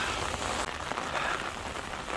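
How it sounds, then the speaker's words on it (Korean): Heavy rain falling on Jeju Olle route 7 hiking trail during a downpour advisory: a steady, dense hiss of drops close around the microphone, unbroken throughout with a brief bump partway. "자, 비가 계속 옵니다."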